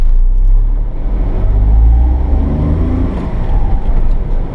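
A 1991 Honda Acty Street kei mini van pulls away in second gear on a hot day, its small engine giving a steady low drone close by that stays loud and even with no talking over it.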